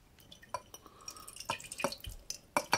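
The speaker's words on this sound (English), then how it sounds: "So I pour out my developer all over my bench" Photographic developer spills from a Minox daylight tank onto a bench in quiet, irregular drips and splashes, with light clinks of plastic or glass, faint and close.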